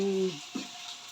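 Ground pork sizzling as it goes into a hot pan, a steady close frying hiss after a brief tonal sound at the start, with one small clatter in the middle.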